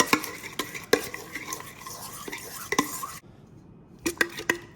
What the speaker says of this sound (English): Once again, you're gonna mix it.